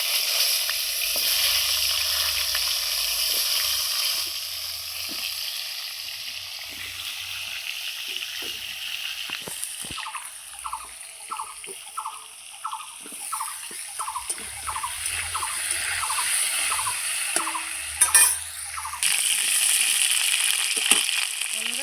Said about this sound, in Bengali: এইবার আমি ওই তেলের মধ্যেই ফোড়নে দিয়ে দিচ্ছি। দেখুন, তেলেই ফোড়নে দিচ্ছি কালো জিরা, আর সঙ্গে দিয়ে দিচ্ছি আলু।